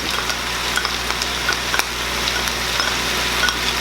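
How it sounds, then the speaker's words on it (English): Ground pork sizzles steadily in a hot pan as onions go in, a loud, continuous frying hiss with small scattered crackles and no talking. "Now we're going to add our onions"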